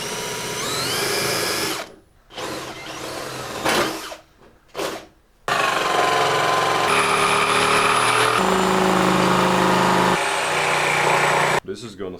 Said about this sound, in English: I can cut it out with the jigsaw